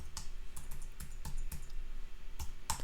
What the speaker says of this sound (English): I'm getting nervous and typing too fast.